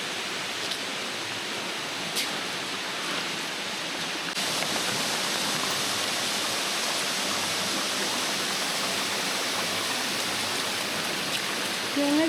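Steady broadband rushing water, a constant roar like a waterfall nearby, continuous throughout with no speech.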